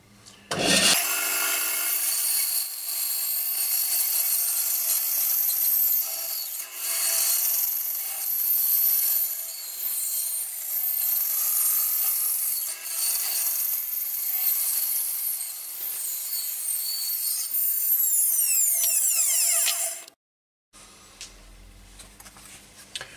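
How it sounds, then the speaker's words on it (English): A bandsaw slicing through ash wood, a steady loud rasping cut lasting about twenty seconds with slight swells in pitch, then stopping abruptly and leaving the motor winding down quietly. "Also, I'm really pleased with this new bandsaw and having a decent blade in it."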